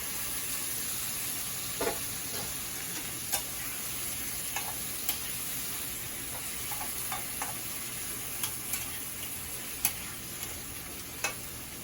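Hilsa fish pieces fry in a pan with a soft, steady sizzle, broken by occasional faint pops and ticks of spattering oil, quiet and without talk throughout.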